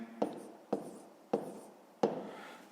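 Pen writing on paper while working a fifth-grade math exercise, four distinct short scratchy strokes spaced about half a second apart, close and quiet with no talk.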